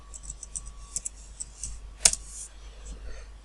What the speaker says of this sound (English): We're going to sign in into this window by typing the password.